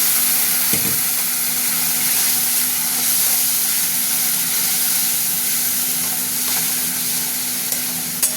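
Spice masala with salt, ginger-garlic paste and a splash of potato-boiling water frying in oil for an egg curry. It gives a loud, steady, close sizzle and hiss throughout, with a few faint clicks of stirring.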